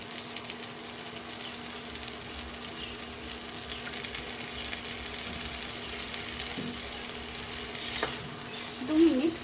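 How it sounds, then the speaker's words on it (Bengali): Spice paste with turmeric is stir-fried with potatoes for aloo posto in a pan, a steady low sizzle running throughout with soft scraping stirs and a louder burst of frying near the end. "কষিয়ে নিতে হবে মশলাটা আলুর সাথে ভালো করে নাড়িয়ে মিশিয়ে নেব"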